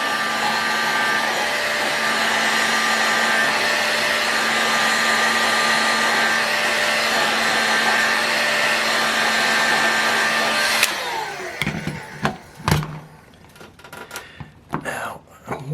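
A heat gun blows steadily on part of an OS FT-240 Super Gemini model engine during disassembly, a loud continuous whooshing hum that cuts off near the end, followed by scattered clicks and handling knocks.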